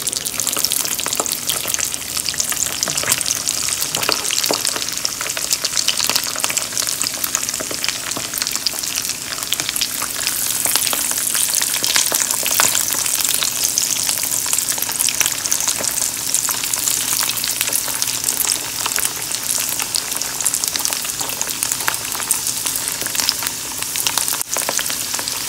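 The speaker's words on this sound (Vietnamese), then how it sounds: "mình sẽ cho cái chảo dầu nóng lên để mình chuẩn bị mình chiên cái da heo này nha các bạn" Pork skin frying skin-side down in a pan of hot oil, a loud, continuous dense crackle and sizzle with bright spitting pops throughout, no voices.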